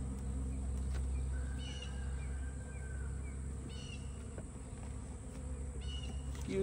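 Steady, dense buzzing of many honey bees close by at an open hive, a continuous hum with occasional brighter passes as individual insects fly near.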